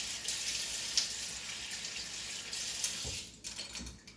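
Running tap water splashes steadily over a sticky utensil in a sink, a close, continuous hiss with small clunks from handling near the end as the flow tapers.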